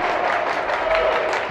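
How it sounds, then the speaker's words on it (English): Crowd noise fills a gym at a men's college volleyball match, a dense wash of applause and cheering that stays steady and loud, with no distinct clap rhythm standing out. "The staccato clap."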